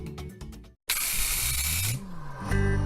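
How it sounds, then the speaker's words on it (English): Graco TrueCoat Pro II handheld airless paint sprayer, fitted with a narrow 4 to 6 inch fan tip for trim and windows, gives a steady close hiss for about a second, then a motor whine rises and fades. "It sprays a 4 to 6 inch fan pattern for smaller surfaces such as windows, trim, and molding."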